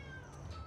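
A cat meows in a video game, a short, fairly quiet call over a steady hum of background game ambience.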